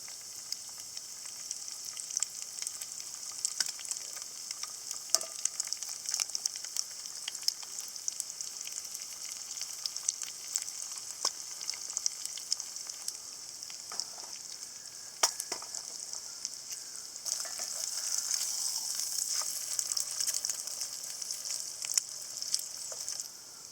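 Eggs frying in a pan on a Redcamp wood stove with a good flame going, a steady bright sizzle running throughout with small pops and crackles, continuous and fairly close, no talking.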